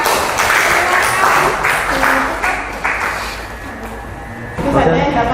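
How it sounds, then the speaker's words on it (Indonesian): Applause from a classroom group for a presenting team, a steady wash of clapping running throughout with voices mixed in, fairly loud and close. "tepuk tangan untuk kelompok 2"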